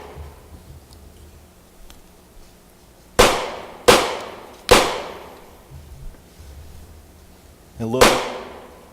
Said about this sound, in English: The next one is a semi-auto pistol.